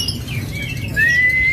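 Caged songbirds at a bird shop chirp and whistle in short bright calls, with a rising whistle near the end over a low background rumble.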